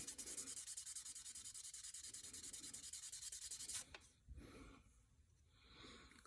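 1000-grit paper wet sands a surface in quick, steady back-and-forth strokes, a soft, faint rhythmic hiss that stops abruptly, followed by a few scattered rubs and quiet handling.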